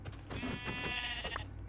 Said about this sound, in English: Found a sheep.